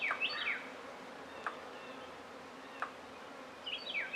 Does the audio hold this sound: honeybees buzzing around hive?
yes